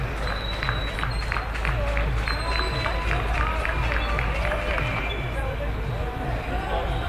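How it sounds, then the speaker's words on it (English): Rhythmic spectator clapping alongside the long jump runway at a school athletics meet, a steady pulse of claps under continuous crowd noise and commentary. "on the long jump runway, that's the clapping you'll hear in the background"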